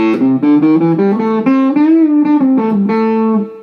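A warm, bassy Telecaster Esquire electric guitar on its forward bass setting, with a cocked-wah mod, plays a short melodic line of sustained notes, round and loud, with a darkened, muffled top end.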